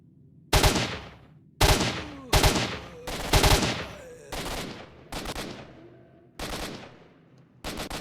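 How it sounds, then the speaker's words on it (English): Enemy gunfire in Stalker: Shadow of Chernobyl: eight loud, sharp shots in irregular single bursts, each followed by a ringing echo as in a tunnel, with no voices. "You can see one of them shooting kind of brainlessly."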